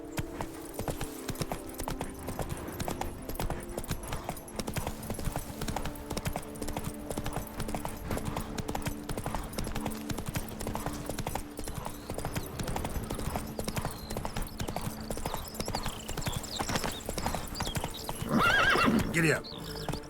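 Horse hooves clip-clop steadily on the ground in The Witcher 3: Blood and Wine, a continuous rhythmic trot under game ambience, with a neigh rising near the end and a voice speaking over it.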